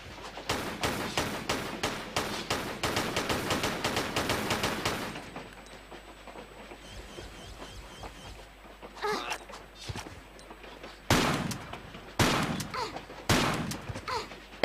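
Rifle fire in the PC game Tomb Raider IV: The Last Revelation, a rapid loud burst of repeated shots followed by several separate sharp single shots with brief pauses between.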